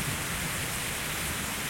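Heavy rain pours down steadily during a thunderstorm, a dense, even hiss of downpour filling the whole stretch with no voices and no distinct thunderclap standing out.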